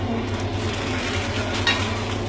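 Vegetables stirred in a pan during a cooking lesson, a steady close sizzle with soft scraping and faint clinks of a utensil, no talking.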